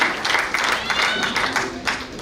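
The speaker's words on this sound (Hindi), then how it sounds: "इसलिए आपकी तालियां बजती रहेगी तो हमारी कविताएं आपको पहुंचती रहेगी।" Audience applause at a patriotic Hindi poetry gathering (kavi sammelan), a steady wash of many hands clapping that carries on evenly throughout with a few louder swells.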